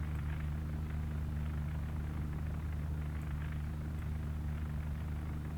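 Short Sunderland flying boat in the Uboat video game, a steady distant engine drone with a low rumble, droning evenly and quietly with no voices.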